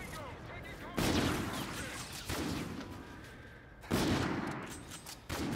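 Gunfire in Call of Duty: Infinite Warfare during a team deathmatch: four loud, close bursts of shots, each hitting hard and fading out over a second or so.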